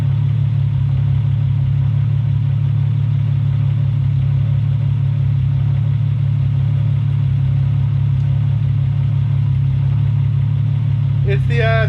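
A VR6 engine idles with a raspy exhaust from the pipes hitting, a loud, steady low drone heard close up for the whole stretch, with a brief rattle near the end.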